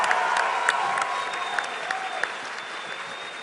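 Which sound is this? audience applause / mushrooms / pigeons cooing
audience applause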